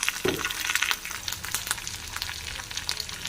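Sliced onions go into bitter gourd frying in oil, setting off a busy, loud crackling sizzle with quick stirring and spatter bursts throughout.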